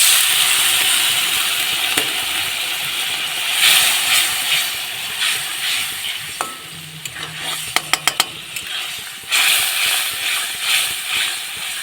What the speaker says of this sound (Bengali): এবার পরিমাণ মতো জল দিয়ে দেব মশলাটাকে কষানোর জন্য।